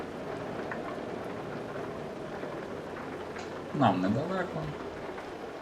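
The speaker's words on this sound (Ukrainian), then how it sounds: "Дощ падає, самі включилися." Steady rain falls in the Euro Truck Simulator 2 driving game, a constant hiss heard from inside a truck, with someone speaking briefly partway through.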